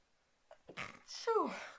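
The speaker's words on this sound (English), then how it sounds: "I didn't want to sneeze" A single close sneeze at a craft table erupts after a short breathy build-up, a sharp burst trailing off into a falling tone.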